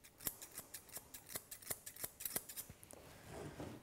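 Grooming scissors trimming a Labradoodle's fur around the back of its leg, a steady series of sharp, close snips in an even rhythm, quiet and alone.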